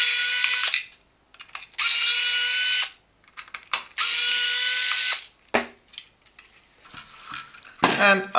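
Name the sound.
power screwdriver removing three screws from work light board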